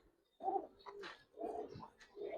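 Giribaz pigeons give several soft, low coos in a row, close and fairly quiet, with brief pauses between calls.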